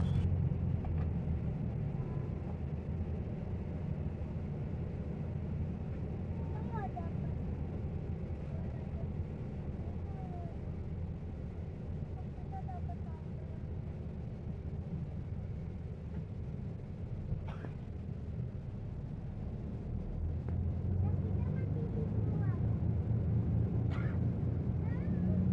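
An M Trans Patria coach pulls away from Gayatri bus terminal in Tulungagung, its diesel engine humming low and steady from inside the cabin, rising slightly in pitch toward the end, with muffled background voices.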